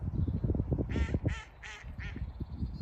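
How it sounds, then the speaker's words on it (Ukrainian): Duck quacks, about four in a row, sound over a quiet outdoor background with talking before and after. "як качки квакають"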